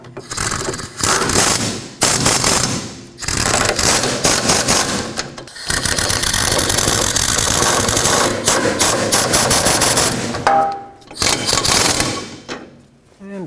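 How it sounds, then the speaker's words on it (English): Pneumatic air impact gun hammering wheel bearing bolts tight on a Pontiac G6 rear hub in a cross pattern, several loud rattling bursts separated by short pauses, close up. "I'm just going to make them tight with my air gun"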